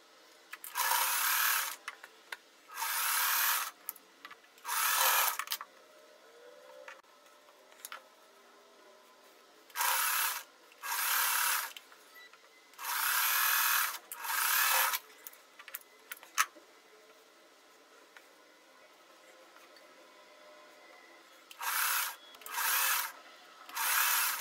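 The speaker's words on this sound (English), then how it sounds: "I'm just gonna sew them together any order we want." A sewing machine stitching quilt block pieces together in repeated short bursts of fast whirring, separated by quiet pauses, close and fairly soft, with no talking.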